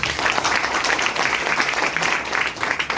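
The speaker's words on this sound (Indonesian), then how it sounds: "Tepuk tangan dulu yang tulus." Sustained audience applause at a seminar gathering, close and loud, a dense even wash of many hands clapping throughout.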